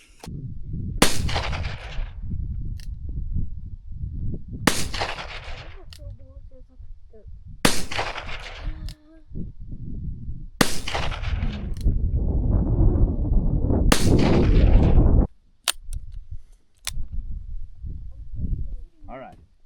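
Six loud revolver shots of .45 Colt Barnes Pioneer ammunition fired outdoors, spaced a few seconds apart, each sharp crack followed by a short echo, with someone talking in between.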